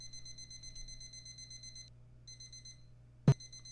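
Repeated high electronic alarm clock beeps ring in evenly spaced pulses, pausing briefly before resuming, over a low background hum, with one sharp loud knock toward the end.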